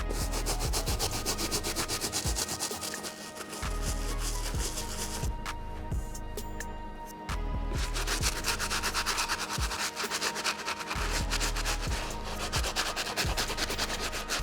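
A brush scrubs Off-White Dunks sneakers with a dense, steady rhythmic scratching close by, briefly pausing and resuming in quick back-and-forth strokes.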